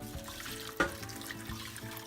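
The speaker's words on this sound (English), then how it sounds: "Now we're going to add 2 cups of hot water" Two cups of hot water poured into a bowl of bulgur and seasonings, a steady close trickle with one brief clunk partway through.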